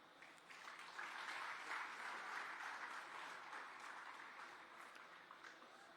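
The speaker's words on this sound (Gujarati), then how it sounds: "આપણે બધા જ આપણી તાળીઓના વિવેક સાથે સાહેબને" An indoor audience at a Gujarati book-launch event applauds a departing guest, a dense, sustained clapping that holds steady for several seconds and eases slightly toward the end.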